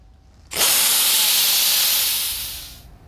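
Power sander working 50 grit sandpaper over the bare metal of a Ford F100 truck cab corner, a loud steady abrasive hiss that starts abruptly and runs for about two and a half seconds before tapering off.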